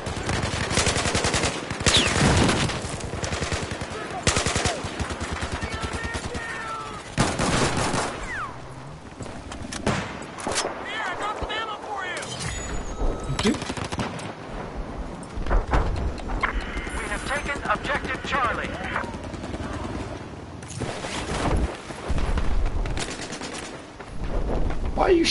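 Gunfire in Battlefield 4 on PS4 Pro, repeated sharp shots and rapid automatic bursts through a chaotic firefight, loud and near, with players talking over the action.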